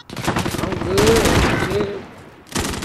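Rapid bursts of video game gunfire in Apex Legends or Call of Duty crackle loud and close in a dense barrage, with voices talking over the shots.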